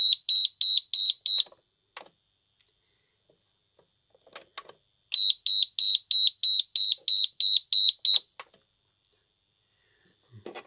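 An electronic alarm beeps in two fast, evenly spaced bursts of high tones, separated by a pause with faint clicks.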